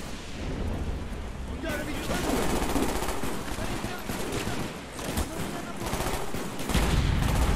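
Rapid automatic gunfire and bursts from the Call of Duty Black Ops video game, dense and continuous across the whole stretch with heavier booms near the end, the players' voices mixed in underneath.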